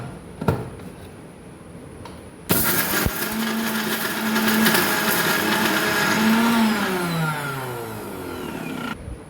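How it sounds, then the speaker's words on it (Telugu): A kitchen mixer grinder whirs loudly as it grinds gongura chutney, starting abruptly and running in a steady high-pitched drone with its pitch dipping as the load shifts, then cutting off near the end. "దాన్ని మిక్సీ పట్టుకున్నాము."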